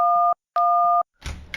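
Two long steady tones of an outgoing telephone call ringing with no answer, separated by a short silence, followed by a brief burst of noisy handling sound; no voices.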